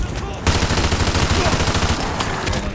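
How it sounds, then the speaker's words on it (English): A high-capacity LMG firing in Modern Warfare 2, a loud, sustained burst of rapid automatic fire with an even rhythm after a short lead-in. "You'll notice I specifically brought a high magazine LMG for this run."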